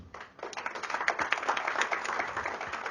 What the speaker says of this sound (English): You can give them an applause.